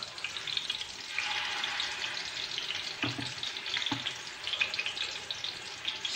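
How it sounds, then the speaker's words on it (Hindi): Minced chicken kebabs fry in a pan with a steady close hiss and crackle of oil, broken by a couple of brief utensil taps. "पैन में जो चप्पल कबाब हैं वो फ्राइंग के लिए जाने के बाद कैसे लग रहे हैं।"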